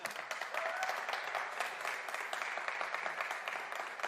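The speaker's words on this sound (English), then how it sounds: "Is there any applause?" Crowd applause at a smartphone launch event greeting a 90 Hz display announcement, a continuous, fairly distant wash of clapping that holds steady at low volume without any talk.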